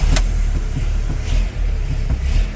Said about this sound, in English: She just fires right up.